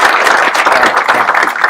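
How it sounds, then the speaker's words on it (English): Close, loud applause from a crowd at a swear-in ceremony, with dense continuous clapping throughout. "So give him a round of applause."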